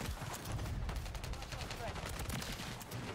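Rapid SMG gunfire in Modern Warfare 3 on the Shipment map, dense bursts of shots rattling continuously at close range, with a voice talking underneath.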